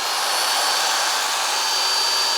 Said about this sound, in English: I've got a full-on portable heater going, a power drill, 3H power drill, and this is a strong drill